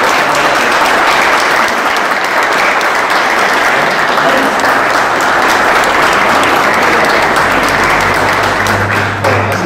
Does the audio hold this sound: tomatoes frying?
no